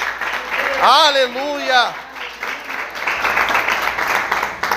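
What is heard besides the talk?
congregation applauding in church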